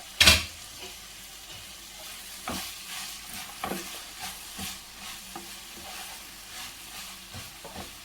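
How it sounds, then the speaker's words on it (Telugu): Amaranth leaves with garlic, green chilli and cumin frying and being stirred in a pan, a soft steady sizzle with scraping stirs and a sharp clank at the start, no voices. "తోటకూర మంచిగా వెల్లుల్లి పచ్చిమిర్చి జీలకర్ర ఇవన్నీ మంచి ఫ్రై అయిపోయినాయి"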